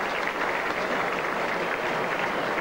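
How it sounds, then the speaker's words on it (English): A cricket crowd at Headingley, at a 1975 England v Australia Test match, applauds a departing batsman with steady, dense clapping and cheering throughout. "The crowd standing to Edrich as he leaves the field."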